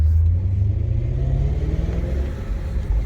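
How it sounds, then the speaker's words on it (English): A 2000 BMW E39 M5 engine pulls from a standing start, a loud low rumble from inside the car rising slowly in pitch, with slight unevenness as it accelerates. "it still has the same issue where it's a little stuttery around the first initial takeoff and up to 2000"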